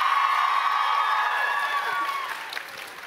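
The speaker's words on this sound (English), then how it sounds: "Raucous round of applause for our guests today" A live podcast audience at TwitchCon Paris 2023 bursts into loud applause and cheering for the guests, a dense wash of clapping and whoops that gradually fades.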